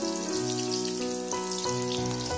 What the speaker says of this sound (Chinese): 锅中下少许油，倒入蒜片爆香